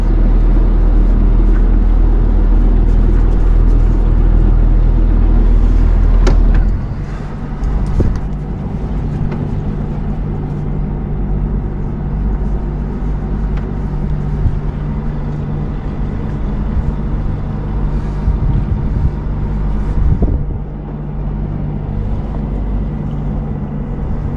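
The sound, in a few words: engine power on an 85ft yacht while docking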